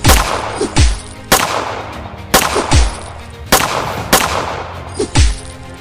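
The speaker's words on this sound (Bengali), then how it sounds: "বন্দুকের গুলি, তলোয়ারের সংঘর্ষ, মশালের আলোয় রক্তে লাল হয়ে উঠল অরণ্য।" Gunfire effects from an audio-drama forest battle, with sharp, loud shots in bursts of two about every second and a half, each ending in a low thud. The shots are close and there is no talking.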